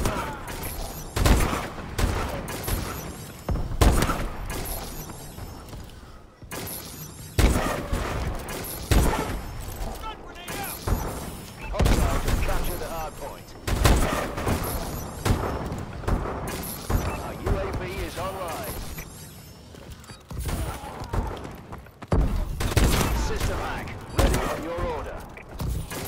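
Enemy gunfire in a multiplayer shooter video game: rapid, repeated bursts of shots and automatic fire through the whole stretch, loud and close, mixed with game voice callouts and in-game announcements.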